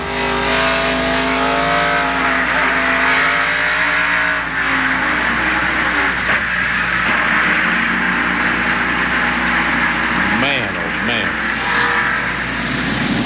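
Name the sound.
NASCAR race car at Bristol, Ernie Irvan's in-car camera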